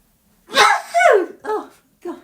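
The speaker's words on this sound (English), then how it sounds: "But I'm going to sneeze." A breathy intake and forceful sneeze burst up close, followed by a couple of shorter vocal sounds trailing off.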